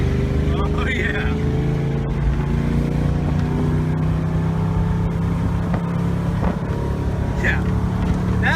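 A 2006 Rinker 262 BR motorboat accelerating with its exhaust cutout open roars loud and close, a deep rumbling drone with gritty exhaust tone holding steady throughout.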